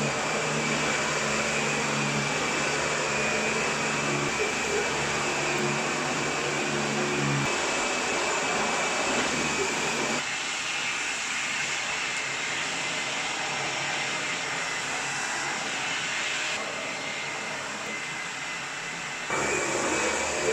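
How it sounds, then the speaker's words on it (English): A vacuum cleaner hoovers a floor and stairs indoors with a steady, loud whining drone that shifts in tone several times as the machine moves or changes surface, running on without pause. "I've actually managed to hoover the stairs as well."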